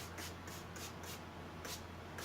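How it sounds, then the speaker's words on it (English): Spray bottle misting water over a large kitchen cabinet during a distress finish, a series of quick, soft hissing bursts repeating in rhythm, faint and close. "and this water, let's just spray the rest of it down."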